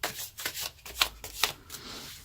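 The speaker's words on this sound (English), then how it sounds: "All those cards are pre-shuffled, so it's just shuffling on the screen" Tarot cards shuffled by hand at close range in quick rubbing bursts, with a few sharper riffle accents and no one talking.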